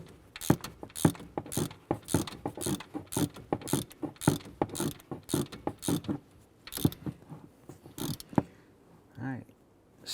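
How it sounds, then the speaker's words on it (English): A ratchet tightens the two alternator bolts on a 2011-2018 Ram during an intake gasket replacement, rapid close-up clicking bursts in quick repeated strokes, then a brief pause and a short final burst. "go ahead and tighten down the 2 alternator bolts"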